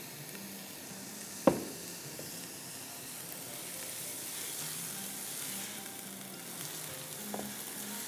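Pomace olive oil poured into a pan with butter gives a soft, steady frying sizzle and hiss, with one sharp clink near the start and a faint knock later on.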